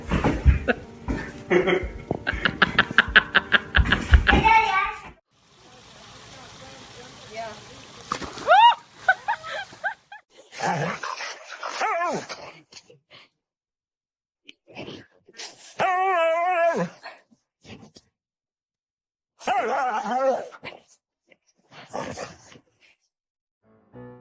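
A dog screams and whimpers during a bath, with high, wavering yelps in bursts separated by quiet gaps, plus splashing water and some human talk early on.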